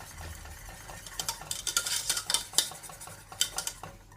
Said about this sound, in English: Stir that in there.